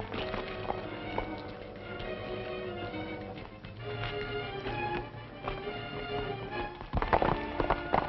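Horse hooves clatter continuously at a fast, uneven pace, with a busy, muffled background and a louder burst of hoofbeats near the end.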